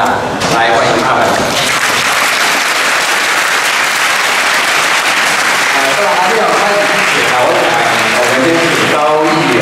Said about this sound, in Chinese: 那是不是我们请在场的同学最热烈的掌声啊，来欢迎他们。